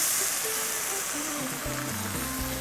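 White wine hits a hot pot of spinach risotto, giving a steady broadband sizzle and hiss throughout, with a voice speaking over it.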